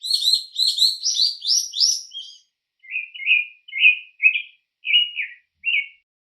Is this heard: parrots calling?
yes